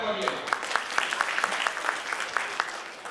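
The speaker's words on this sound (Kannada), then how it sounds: "ಹಾಗಾಗಿ ಅವ್ರಿಗೂ ಕೂಡ ಒಂದು ಚಪ್ಪಾಳೆ ಬರಲಿ." An audience at an education department staff association installation ceremony claps, a steady patter of many hands for a few seconds with scattered sharper claps, with talk mixed in.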